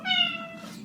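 A single close meow from a pet cat greeting its owner who has just come home, a short tonal cry that fades out quickly in a quiet room.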